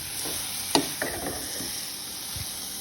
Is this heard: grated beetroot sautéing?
yes